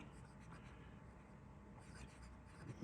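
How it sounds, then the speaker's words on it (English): A Canadian-made Parker Duofold Junior fountain pen from the 1930s to 1940s writes on paper, its nib giving a very faint, continuous soft scratching of strokes. "The nib is writing very nicely indeed. It's lovely and smooth."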